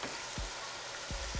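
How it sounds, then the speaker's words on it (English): Oil sizzles and crackles steadily in a hot pan while cooking pasta, a constant hissing fry with a few low knocks, heard up close. "that's not the sound of boiling water, that's the sound of sizzling oil"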